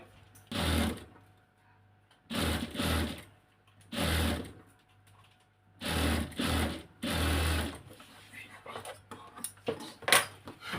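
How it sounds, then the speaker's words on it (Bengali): Domestic sewing machine stitching a neckline design on fabric, running in several distinct bursts of rapid mechanical whirring separated by short pauses, close and clear, with a few lighter scattered clicks at the end. "এখন এই পাশটাকে সেলে দিতে হবে"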